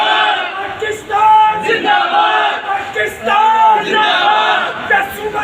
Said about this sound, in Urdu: زبردست نعرے بازی بھی کی گئی